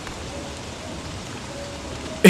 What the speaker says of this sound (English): you're just standing in the rain getting wet